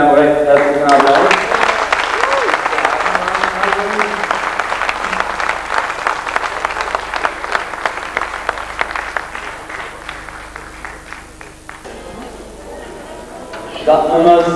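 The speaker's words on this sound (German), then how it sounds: "Verabschieden Sie bitte diese Gruppe mit einem recht herzlichen Applaus." A studio audience at a 1985 regional fitness-school studio championship gives a sustained, dense round of applause lasting most of the clip, fading slightly toward the end before a brief swell.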